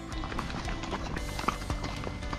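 Horse hooves on a snowmelt-damaged mountain trail in Baisaran Valley, Pahalgam, Kashmir, a loose irregular clip-clop of steps over outdoor background noise, with faint voices.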